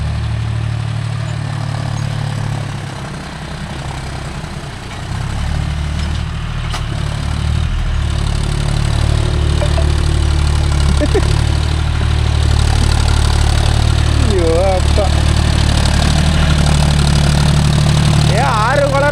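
A John Deere 5050D tractor pulling a 9-point cultivator through muddy farmland runs with a steady, loud low engine drone that swells after a brief dip, while voices speak over it.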